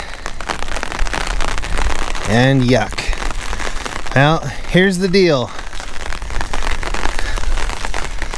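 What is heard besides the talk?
rain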